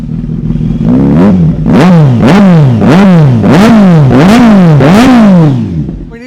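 A stage 2 tuned, ECU-mapped superbike engine blips through about seven sharp, loud revs in quick rhythmic succession, each rising and falling back, close up with no talking over it.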